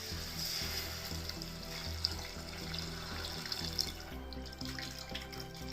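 Strained tamarind water being poured into a pot for South Indian tomato rasam, a steady close splashing trickle of liquid with no talking.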